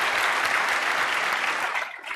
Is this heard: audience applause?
yes